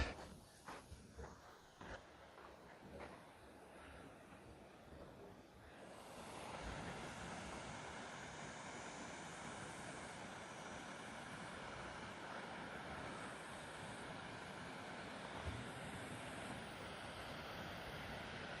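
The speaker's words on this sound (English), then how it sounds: "Finally, a nice breeze came up, cooled me off a little bit." A breeze blowing by the Arkansas River dam in Kansas, rising after a few quiet seconds into a steady, faint rushing of wind mixed with flowing water.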